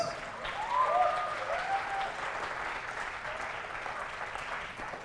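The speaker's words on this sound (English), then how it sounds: "A big round of applause for all our speakers." Steady applause from a crowd, moderately distant, clapping evenly throughout with a few brief whistles early on.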